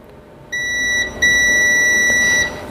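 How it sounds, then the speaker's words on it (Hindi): A multimeter sounds a steady, loud electronic beep while its probes test a fully shorted capacitor; the tone starts after a short pause, breaks briefly, then continues for over a second. "बीप आ रहा है ना, ये मीटर की बीप है"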